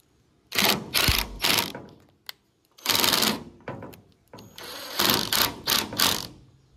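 A screw is driven into wooden boards of a DIY raised planter box, with a drill running in several loud, close bursts separated by short pauses and a faint click in between.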